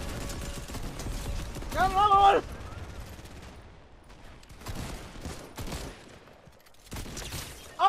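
Video game gunfire from a shooter match, repeated sharp volleys and rattling bursts spread across the stretch, mid-distance and moderately loud, with a streamer talking over parts of it.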